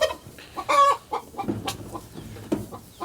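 A chicken clucks in its coop in a run of short, bursty calls, close and fairly loud, with scattered soft rustling between the calls.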